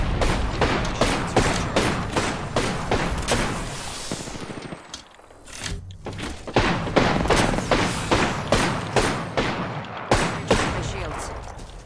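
Rapid bursts of video game gunfire crackle close and loud, dense volleys of shots and thuds with a brief lull midway, a voice speaking now and then over the shooting.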